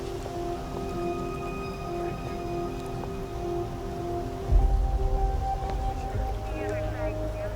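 Steady rain falls outdoors at night, a soft continuous hiss with a low rumble swelling midway, mixed with background tones.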